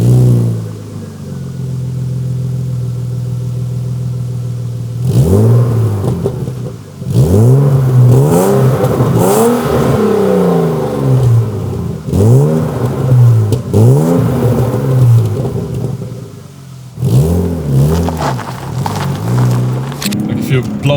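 A 1997 BMW E36 engine revved repeatedly, about five or six sharp blips rising and falling in pitch after a steady idle, loud and close, with brief pauses between bursts.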